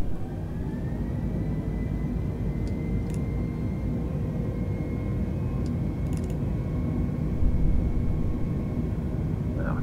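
An airplane engine runs at full throttle in Microsoft Flight Simulator 2020, a steady loud droning roar with a constant tonal whine and a few brief clicks.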